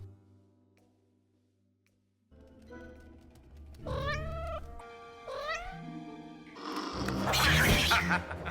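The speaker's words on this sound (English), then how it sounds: "Loth-Cats and Tuca are feline creatures that appear across the animated series" Loth-cat feline creatures from the Star Wars animated series yowl and meow, with rising, stretched cries that grow louder and build into a harsh, noisy caterwaul near the end after a quiet start.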